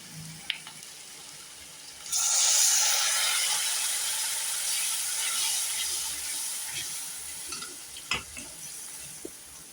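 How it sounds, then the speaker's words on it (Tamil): After a brief quiet start, a loud sizzling hiss erupts as water is added to masala in a hot pan and keeps bubbling, with a few faint clinks of stirring. "இதில் கொஞ்சம் தண்ணி விட்டு நல்லா மசாலா கலவையெல்லாம் வாசம் போகிற மாதிரி வதக்கிக்குவோம்"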